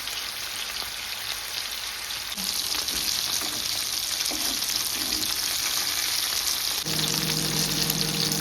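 Fish and onion-chili masala tossed in a hot pan in beach-restaurant style, giving a loud, steady sizzle with stirring clatters in the middle and a low hum joining near the end; no talking.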